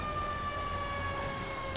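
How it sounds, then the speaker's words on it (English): An American fire truck siren from a GTA 5 firefighter mod, sounding on an International 4400 pumper tender: a steady, loud, sustained wail holding constant across the whole stretch with no talk over it. "The siren is on lspdfr.com. It's called American Firetruck Siren, I think."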